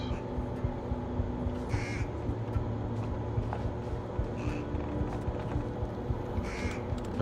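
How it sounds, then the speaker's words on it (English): A caged bird caws in the stealth game Thief, sounding several distinct caws spaced a few seconds apart over a steady low ambient hum, with no voices. "There's a bird there"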